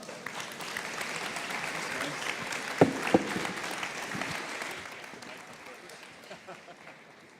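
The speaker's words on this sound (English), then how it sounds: "Let's thank the panelists with a round of applause." An audience at a farm show applauds the panelists with steady, moderately distant clapping that slowly fades out, mixed with light crowd murmur.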